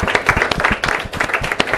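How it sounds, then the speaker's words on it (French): Audience applause at a national day event in the Democratic Republic of the Congo, a loud close burst of many hands clapping in quick irregular rhythm, continuous and unaccompanied by talk. "Et il faut l'applaudir maintenant en attendant."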